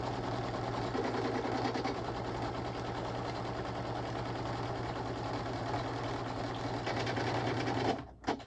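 An embroidery machine stitches a soft fabric keytag in a steady, rapid, mechanical whir that runs unbroken for about eight seconds before stopping abruptly.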